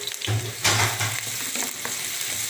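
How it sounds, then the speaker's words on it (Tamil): Sliced onions and green chillies fry in hot oil in a pan with bay leaf and cardamom: a close, dense sizzle with a brief louder burst of crackle early on. "அடுத்து வெங்காயம் நல்லா வதங்கட்டும்"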